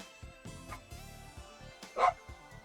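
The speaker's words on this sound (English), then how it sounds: "Daisy, what are you barking at?" A pet dog named Daisy barks a few short, sharp woofs late at night, with a louder yip near the end, over soft background music and faint speech.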